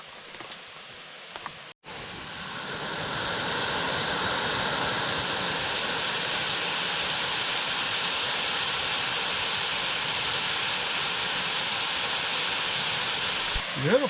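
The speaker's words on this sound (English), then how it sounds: "Oh, lovely sound of that waterfall." Small waterfall heard from a canoe on a wilderness trip, a steady rushing hiss of falling water that swells in after a short pause and holds strongly until it ends.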